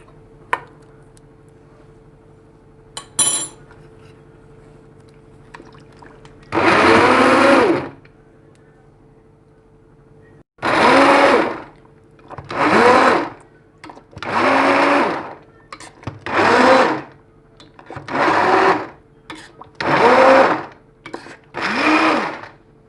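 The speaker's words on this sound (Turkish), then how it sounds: "Ve birazcık blenderdan geçeceğim." A blender purees vegetable soup in a series of loud whirring bursts, one long run followed by several shorter pulses with brief pauses between them.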